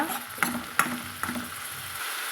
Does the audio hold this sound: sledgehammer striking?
no